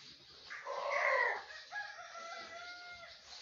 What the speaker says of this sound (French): On a un nouveau coq